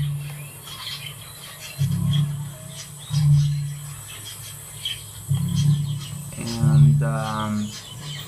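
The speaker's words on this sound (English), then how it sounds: "We can change also the pitch of the birds here." Computer-generated surround soundscape with birds, pitch-shifted: repeated low cooing calls in bursts, a higher chirping call near the end, over faint background noise, with a brief spoken word.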